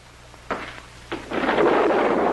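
Thunderstorm thunder used as a radio drama effect: two sharp cracks, then a loud rolling rumble that swells and keeps going, with no voices over it.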